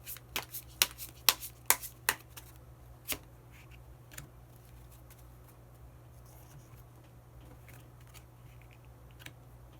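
Tarot cards are shuffled in a quick run of crisp riffling snaps in the first few seconds, followed by softer card handling and a single draw, near and clear over a low steady background hum.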